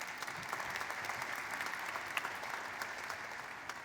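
Audience applause at a university commencement ceremony, a steady, fairly distant wash of many hands clapping with no voices standing out.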